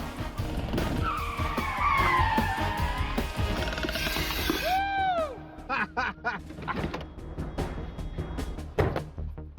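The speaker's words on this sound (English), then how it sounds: "With the red car now in Brian's rear view mirror, Adam's officially shaken his tail." Car tyres squeal and skid repeatedly during a chase on a test course, with rising and falling screeches, engine revving and mechanical clicks, loud and close, and faint voices underneath.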